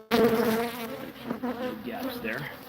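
Honey bees buzzing at an out-yard hive box, a close, wavering drone of several insects that rises and falls over a few seconds, with no talking.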